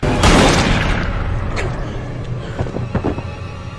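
Gunshots in a film scene from The Happening, a loud booming shot up front followed by fading reverberation and a few fainter sharp cracks toward the end.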